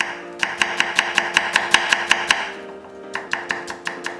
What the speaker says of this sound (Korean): 양파 3분의 1개는 살짝 굵게 채 썰어서